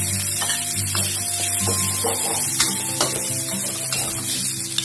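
Carrots fry in a pan for vegetarian green curry fried rice, with a loud, close sizzle, a spatula stirring and scraping against the metal, and several clanks, no voices.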